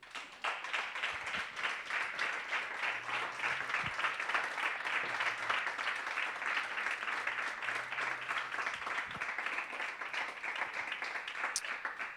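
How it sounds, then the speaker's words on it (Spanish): A church congregation applauds steadily for about twelve seconds during a Sunday service, the dense clapping holding an even level throughout with no pauses. "Dar un aplauso al Señor."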